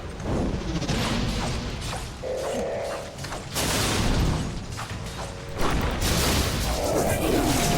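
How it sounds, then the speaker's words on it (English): Whirring, clanking machines in the video game Dungeon Siege 3 summon automatons amid bursts of combat noise, creaks and booms, with mechanical tones rising and falling over a busy, loud battle mix. "Those machines are summoning more automatons."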